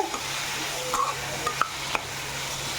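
Tomato pieces are sautéed in a pan with a continuous soft sizzle. A few light utensil clicks and scrapes punctuate it, close and moderately loud.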